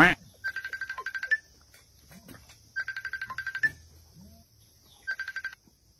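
A mobile phone ringtone plays three bursts of rapid electronic trills, each a quick run of beeping pulses, with short pauses between them and faint voices underneath.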